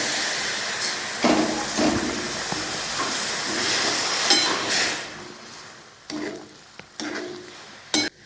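Hot water poured into frying moong dal curry (mung amti) in a pan, giving a loud, sustained hiss of steam and sizzle with a few sharper bursts and clatters, no talking.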